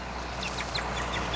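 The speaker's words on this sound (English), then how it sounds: "Now I'm going to let this chucker go" A chukar partridge released in front of a Gordon Setter gives faint, quick clucking chirps in a short repeated series, set against steady outdoor hiss.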